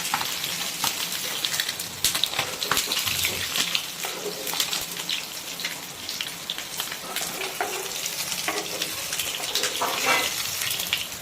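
Pabda fish fry in hot oil in a steady, close, crackling sizzle with spitting pops, running evenly throughout.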